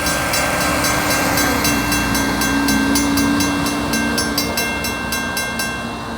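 Train rolling steadily past a brand-new railroad crossing in downtown Sardinia, a loud continuous rumble with rhythmic clicking of wheels over rail joints and a steady high ringing tone, close by and fading slightly at the end.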